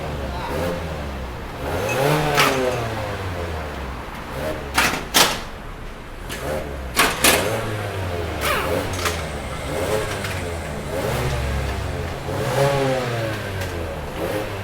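Mazda CX3 compact SUV with a modified exhaust, accelerating with a fairly quiet engine tone that swells and fades through several revving runs, with a few sharp clunks and someone talking.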